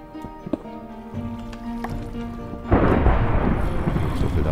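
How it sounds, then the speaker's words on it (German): Minecraft thunderstorm: scattered tones and faint crackles give way to a sudden loud burst of thunder with heavy rain-like noise rolling on to the end. "Wie kann es denn hier gewittern,"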